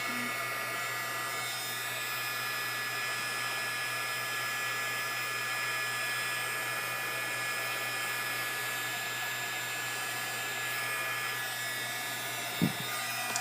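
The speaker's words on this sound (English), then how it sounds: "Once that's done, turn your heat gun off" A heat gun blowing hot air for embossing, a steady close whirring hiss held throughout, with a brief clack near the end.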